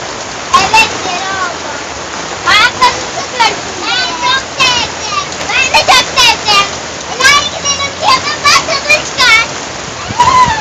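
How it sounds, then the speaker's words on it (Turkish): Summer rain falls on a park while water splashes and splatters nearby, loud and close, with children talking and squealing throughout over the steady wet hiss. "Ama normal yaz yağmuru."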